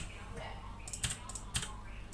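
Typing on a computer keyboard by someone working from home in the background, heard as faint scattered clicks with a few sharper keystrokes over a low hum.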